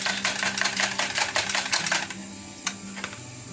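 A whisk beats hot broth into an egg mixture to temper it for Turkish sour meatball soup, rapid rhythmic clicking against the bowl for about two seconds, then a few scattered taps.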